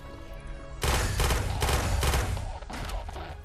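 Pistol fire in the VR shooter Quantum Threshold: after a quiet start, a close, loud string of about five sharp shots in steady rhythm, then lighter clatter and game noise trailing off.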